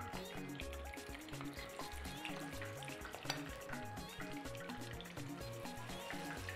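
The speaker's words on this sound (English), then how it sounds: "The oil is hot. If you want to bleach it, it's fine. So I'll begin to fry this now." Yam and plantain fritter batter frying in hot oil, a steady close sizzle and bubbling that runs unbroken throughout with no one talking.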